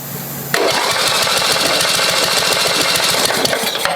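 A 1988 MTD lawn tractor's 8 hp Briggs engine cranking over, a fast, steady, rough churning rhythm that kicks in suddenly and stays loud and close throughout.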